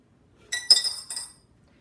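A coin drops into a glass jar during a science-or-magic demonstration, giving a bright clink followed by a couple of quick rattling taps, close and clear against near silence.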